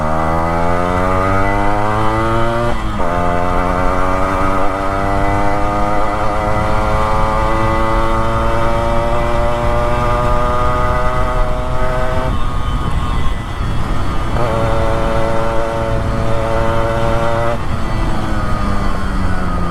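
Yamaha RX 100 two-stroke motorcycle fitted with a glass wool exhaust, revving loudly and continuously with rising and falling engine pitch, close by and with no talking.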